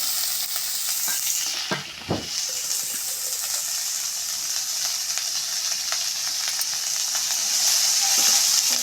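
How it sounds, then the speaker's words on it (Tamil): Onions sautéing in a pan for a broad-bean stir-fry give off a steady close sizzle, with a brief scraping stir early on and the frying hiss running alone throughout. "ஒரு ஒரு நிமிஷம் வதங்கட்டும் பாருங்கள் வெங்காயம் இந்த அளவுக்கு வதங்கினா போதும்"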